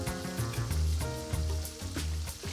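Cubed parboiled potatoes for a French-style pomme sauté sizzling in a hot pan of oil outdoors, a steady close crackle and fry with some clinks of a utensil stirring.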